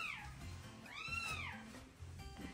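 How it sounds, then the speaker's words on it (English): A house cat meows in a long, rising-and-falling call close by, followed by a shorter second meow, with people talking quietly in the background. "There's only one cat in here."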